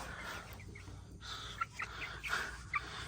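Backyard chickens kept as pets, including a hen with freshly laid eggs, cluck in short scattered bursts at moderate distance over steady low farmyard background noise.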